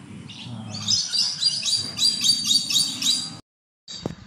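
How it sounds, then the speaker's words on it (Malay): Small birds chirp in rapid, repeated bright trills at a zoo, fairly close and clear over a low background murmur, before a short abrupt silence. "Kita tengok burung apa pula ni."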